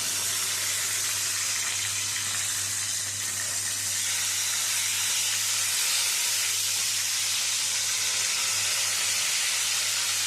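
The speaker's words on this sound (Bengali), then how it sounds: "মাছগুলো এক পিঠ ভাজা হয়ে গেছে, উল্টে দেবো আর এক পিঠ।" Pieces of bhola fish fry in hot oil, making a loud, continuous hiss and sizzle that holds steady throughout without any talking.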